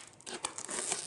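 Foam padding being peeled and torn out of a hardshell backpack, a short burst of close crinkling and tearing scrapes lasting about a second.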